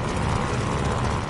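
Propeller aircraft engine idling during a pre-takeoff run-up in the World War II shooter Call of Duty: Vanguard, a steady dense rumble with broad noise, heard alone and close.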